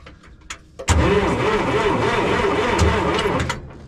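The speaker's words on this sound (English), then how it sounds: "we were just spinning the motor over" The engine of a 1959 International dozer being spun over, a few faint clicks and then a loud, sustained cranking whir with a rhythmic pulsing churn, close and alone for about three seconds before tapering slightly.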